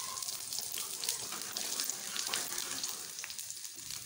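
Onions or spices for a masoor lentil dish fry in a pan until golden brown, a soft, steady sizzle with faint crackles, quiet and continuous.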